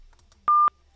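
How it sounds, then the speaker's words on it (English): A single short electronic tone sounds during a phone call, steady and clean, isolated against near-silence. "I don't know what that beeping is."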